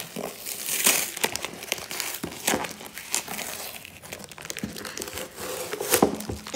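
Plastic wrapping being pulled and torn off an LOL puzzle box, close crinkling and crackling in irregular bursts with sharp rips, no talking.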